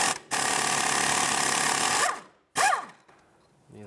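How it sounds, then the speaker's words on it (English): A power ratchet or impact tool whirs steadily for about two seconds, then gives a short second burst as a 12mm bolt holding the front ABS wheel speed sensor on a 1997-2001 Lexus ES 300 is backed out, close and loud. "And then with a 12mm, let's remove that bolt that holds it on."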